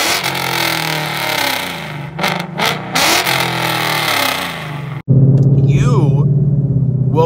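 A 2018 Mustang fitted with a catback, catless exhaust growls and revs loudly and close by, the engine note rising and falling, then settling into a steady deep rumble after a brief cut.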